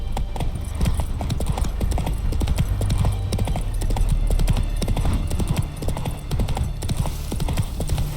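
Roach, a horse in The Witcher 3, gallops with rapid, steady hoofbeats that run loud and close throughout, set against a dense game soundscape.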